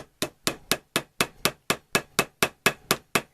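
Ball peen hammer doming copper rivets set in Kydex, a steady run of about thirteen sharp metallic strikes at an even, quick rhythm, close and distinct with no talking.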